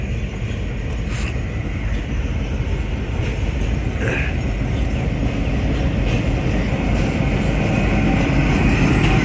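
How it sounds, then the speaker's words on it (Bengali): The Dhalarchar Express train rumbles steadily past through Pabna railway station at close range, with continuous wheel roar and faint clattering and squeaks on the rails. "ঢালাচর এক্সপ্রেস ট্রেনটি পাবনা রেল স্টেশন অতিক্রম করছে"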